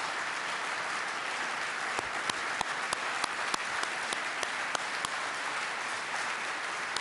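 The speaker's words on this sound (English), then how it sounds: "Just keep clapping." Sustained applause from a banquet audience at the International Code Council annual dinner, dense steady clapping filling the room with sharp individual claps popping out near the front, no voices over it.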